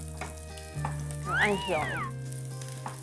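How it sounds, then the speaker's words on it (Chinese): Garlic stir-fried in a hot pan at home, with a little ham added, crackling in a steady sizzle that builds into a louder burst midway while someone talks over it. "爆炒蒜頭"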